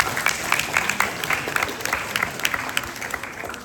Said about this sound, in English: you can give them a clap